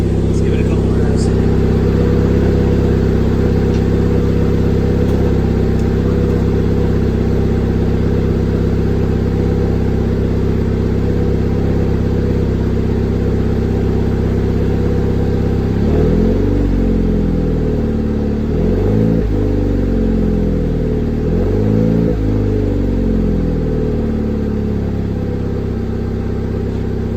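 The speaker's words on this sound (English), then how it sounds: "Let's give it a couple of revs." A Ford Fiesta ST fitted with a Thermal R&D 3 inch exhaust idles loudly, then rises in two or three sharp revs near the end, close and steady.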